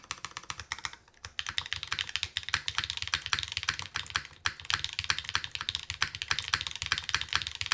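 Someone types quickly and evenly on a Fossil R2 mechanical keyboard, giving dense, steady clacking at close range. The key presses sound crisp, with a brief pause partway through, and no voices can be heard.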